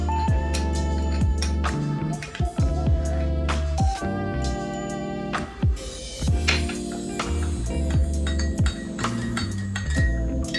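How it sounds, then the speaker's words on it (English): A spoon stirs honey into tea in a glass, ringing with repeated bright clinks and scrapes against the sides in a steady close rhythm. "we're gonna stir this honey in well"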